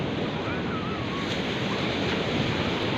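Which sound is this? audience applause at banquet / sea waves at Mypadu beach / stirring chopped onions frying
sea waves at Mypadu beach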